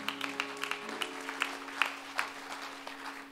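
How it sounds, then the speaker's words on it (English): Church congregation claps during a Sunday service, a fairly faint run of distinct hand claps at an uneven pace over a low steady hum in the room. "Let us give the Lord a rousing hand clap."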